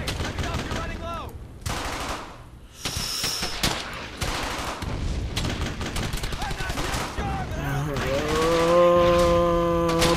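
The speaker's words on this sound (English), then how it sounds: "Suppressing fire." Sustained machine gun suppressing fire in the World War II shooter Brothers in Arms: Hell's Highway, loud dense rattling bursts with battle noise, lasting the whole stretch.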